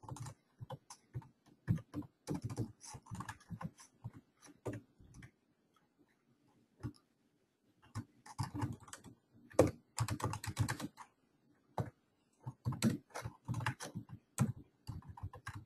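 Bursts of typing on a computer keyboard, quick clicky keystrokes in clusters with short pauses between them, close and clear with no voices.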